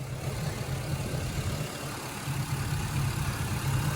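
A 1967 Chevrolet Camaro pro touring car with a 6.0 LS V8 idles steadily, a low even burble held at constant loudness throughout, close by with no talk.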